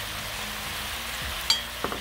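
Cumin seeds hit hot oil in a pan with a soft, steady sizzle, punctuated near the end by a sharp spatter and a couple of small pops.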